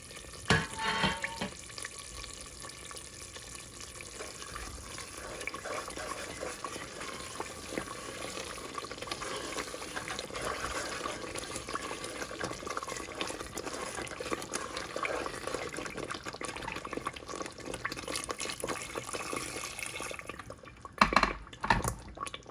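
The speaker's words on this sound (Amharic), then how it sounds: "ውሃ ጠብ እያረኩኝ ላላ እያረኩ እሄዳለሁ ማለት ነው።" Ethiopian berbere spice dry-roasted in a pan for a lentil and potato stew, with water dribbled in: a steady close sizzle and crackle with wet spattering that runs nearly uninterrupted, then briefly changes near the end. No voices.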